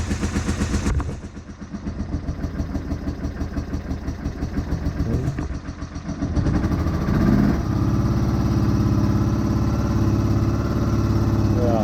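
A car engine runs steadily while gas comes out of the exhaust, a continuous rumble that grows fuller and louder partway through, close by with no talk over it.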